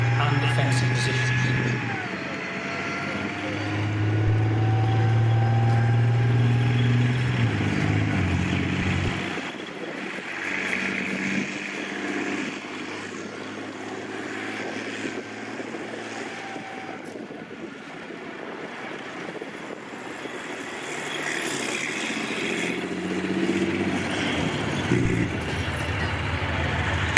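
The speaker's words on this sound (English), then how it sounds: "First vehicle into the attack is the assaulting tanks." Military tanks roll through an arena attack display, a sustained deep engine rumble and track noise carrying throughout at steady loudness, with a commentator talking over the top.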